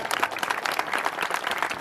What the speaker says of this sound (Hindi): तालियां जरा जोरदार ढंग से।